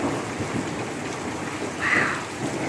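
Heavy rain in a sudden thunderstorm hisses steadily and densely, with a low rumble of thunder swelling briefly partway through.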